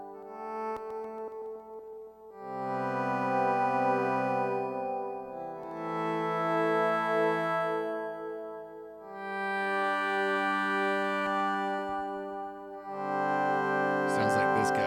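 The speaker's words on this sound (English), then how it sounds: "It sounds like this guy right here, this Critter and Guitari Organelle." A Critter and Guitari Organelle synth plays a loop of four sustained, effect-heavy chord phrases separated by short gaps, with no voices.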